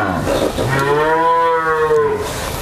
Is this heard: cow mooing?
yes